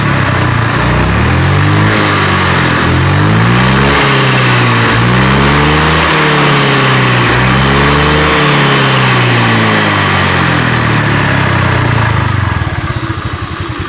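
A Honda Vario 125 scooter with sluggish throttle pickup revs repeatedly under the throttle, its engine pitch climbing and falling in several loud, close surges before easing off at the end.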